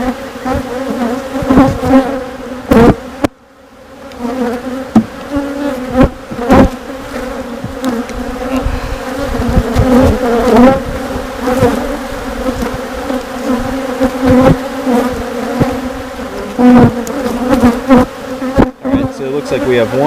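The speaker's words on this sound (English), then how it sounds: "These bees are on me." Honey bees buzz in a dense, continuous drone around an open beehive during a backyard hive inspection, close and fairly loud, with the hum pulsing and swelling as bees fly near.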